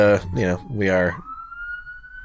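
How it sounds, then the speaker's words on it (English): Police sirens wail nearby, rising and falling in loud sweeping tones before settling into a steadier fading wail. "please excuse the sirens. Excuse the sirens."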